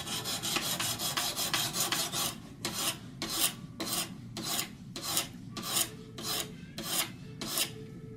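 A knife bevel is ground on a Wicked Edge guided sharpener while the knife is prepared for the wilderness. Steady rasping strokes repeat close up, fast and continuous at first, then slower and evenly spaced, with no talking.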